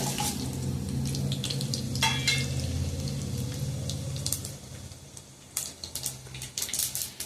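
Spices tempering in hot oil for a curd dal give a steady close sizzle with scattered crackles and pops, fading to quieter stirring-like noise before a few sharper spatters near the end; no one speaks.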